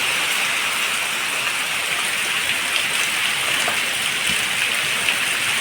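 Heavy rain pours down over farm fields, a dense, steady hiss of drops that stays loud and unbroken from start to finish.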